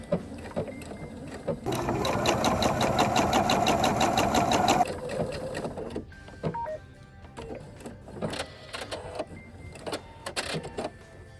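A sewing machine stitches along the edge of an Easter bunny treat bag lining, running in one fast, loud, rattling burst for about three seconds, then a few slower starts and clicks of the mechanism.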